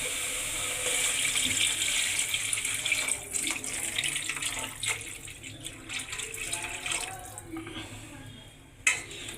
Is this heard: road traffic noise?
no